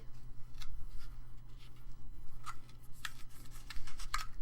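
Quiet scissors snip through paper in a few short, crisp cuts with soft rustling between them, close by.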